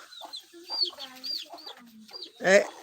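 Chickens cluck and chicks peep in short, close bursts, with a louder squawk near the end and a faint voice nearby.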